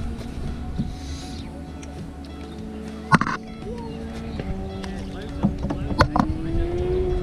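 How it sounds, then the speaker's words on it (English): A canoe is paddled along the River Severn, with irregular wooden knocks and soft splashes over a low steady hum, and a few sharper close clunks spread through the stretch. "You need to paddle on the other side now."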